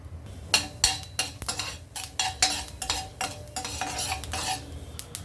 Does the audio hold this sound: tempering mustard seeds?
yes